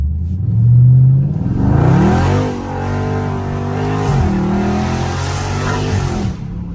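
A Dodge Scat Pack's engine revs loud and close while drifting, its pitch swooping up and down in surges with a brief rise near the start and a hint of tire noise.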